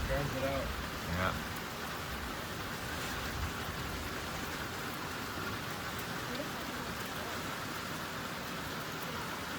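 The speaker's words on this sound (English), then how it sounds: "It's raining too hard." Heavy rain pours steadily onto a trail shelter on the Appalachian Trail, a dense, even roar of drops that holds throughout, with a brief voice and a knock near the start.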